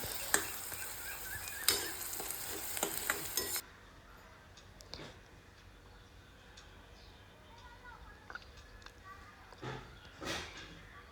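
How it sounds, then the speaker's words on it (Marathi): Onion sautéed in a pan until soft and pink, with stirring clatters and sizzling that start loud, then drop to a quieter sizzle with occasional scrapes, heard close. "आपला कांदा हा छान असा मऊ आणि गुलाबी होईपर्यंत आपल्याला परतून घ्यायचा आहे नीट व्यवस्थित"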